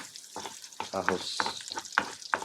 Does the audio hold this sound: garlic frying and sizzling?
yes